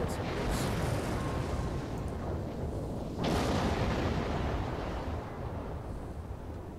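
Ship weapons fire in the Star Trek Online space game: a dense, continuous rumble of blasts with one sharper, louder burst near the middle.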